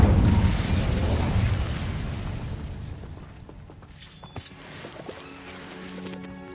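A fiery Incendio spell blast from Hogwarts Legacy erupts loud and close at the start, then fades into quieter crackling bursts and mechanical game effects without any talk.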